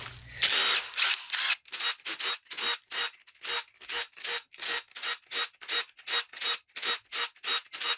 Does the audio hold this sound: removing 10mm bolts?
yes